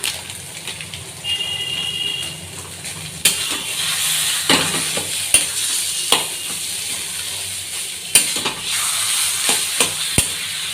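Taro leaf curry sizzles steadily in a pan while garam masala is stirred in, a continuous frying hiss broken by several sharp scraping clicks of the spoon, close and fairly loud with no talking.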